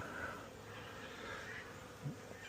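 A steady, faint hum of many bees buzzing continues throughout, soft and diffuse with a slight wavering drone.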